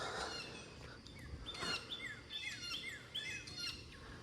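Repeated honking calls of geese, somewhat distant, overlapping in a loose chorus over faint outdoor background noise.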